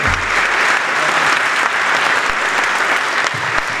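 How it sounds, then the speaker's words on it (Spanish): A large crowd applauds veterans at a Malvinas commemoration, steady dense clapping sustained throughout with no break. "Un aplauso para los veteranos"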